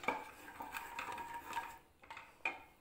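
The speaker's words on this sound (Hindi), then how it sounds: "अब इसको दही को हम लोग सारे मसालों में मिक्स कर देंगे और कंटिन्यूस चलाते रहेंगे" Yogurt is stirred into spices in a cooking pot for chicken korma, producing steady light scraping and clinking of a spoon against metal, with a few sharper taps near the end, close and quiet.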